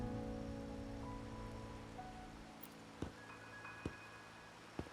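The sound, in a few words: rain falling in a video game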